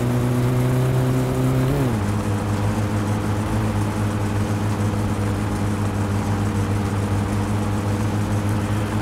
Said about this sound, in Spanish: Y tenemos el Kekmin, el tractorcillo